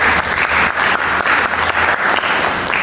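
A church congregation claps together during a sermon, loud and dense clapping that swells in uneven waves across the short stretch.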